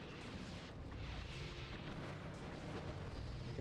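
A low, rumbling explosion from the Custom Robo video game rolls on as a sustained roar, heard fairly faintly and without talk.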